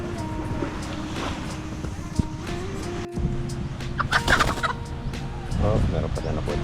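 Native chickens cluck and call in irregular bursts at a beach campsite, mid-distance against steady outdoor background noise with a brief louder flurry near the end.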